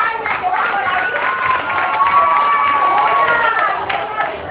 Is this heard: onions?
no